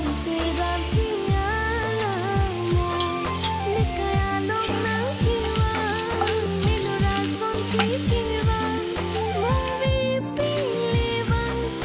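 Onions frying with added chili powder are stirred in a pan for a Bengali katla posto dish, a steady sizzle with occasional scraping of the spoon, mixed under continuous background music.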